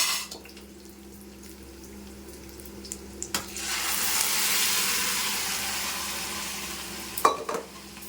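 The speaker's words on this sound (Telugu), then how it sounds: "ఇప్పుడు ఈ సొరకాయ, మనం మెదుపుకున్న సొరకాయ వేసేసుకుందాం." Mashed bottle gourd drops into a hot pan and begins frying, a broad steady hiss swelling after a couple of soft stirring knocks, with a sharp clatter of a utensil near the end and no talking.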